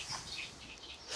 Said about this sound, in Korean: 연밭에서 새소리가 나는 게 되게 신기한데